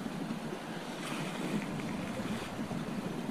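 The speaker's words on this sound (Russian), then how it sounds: "Где-то вот здесь вот слышно, да? Течет ручей" A stream flows through a remote river valley along the Inyali, a soft continuous rushing and burbling, fairly faint and steady with wind-like hiss throughout.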